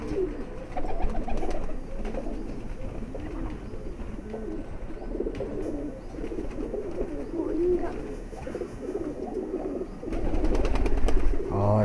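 Pigeons, high flyer breed, cooing in soft, repeated low calls, mingled with a steady murmur of background noise and occasional rustling.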